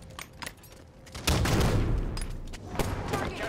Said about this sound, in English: Hostiles firing at orange ramp.